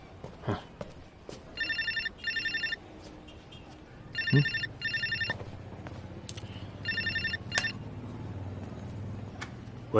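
A telephone rings in a tense drama scene, its electronic ringtone sounding in short repeated double bursts at a moderate level over a quiet, low-rumbling room background.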